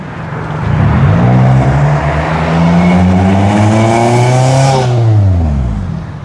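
A loud car with what seems a broken muffler roars past on a street in Freehold, New Jersey, its harsh, rattly engine note rising, holding and then falling away as it goes by.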